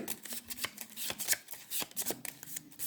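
Location cards from the Xenoshyft card game are shuffled by hand: quiet, close riffling and flicking in quick irregular bursts, with no voices.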